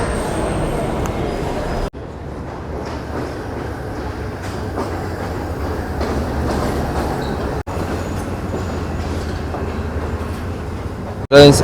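A train pulling into a station in Sri Lanka on the Kandy to Ella line, a loud steady rumble with clattering wagons and a brief squeal at the end, with people talking over it.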